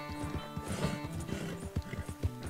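Hooves of a horse in a video game clip-clop in a steady rhythm at moderate volume, with ambient game sound beneath and no talk over them.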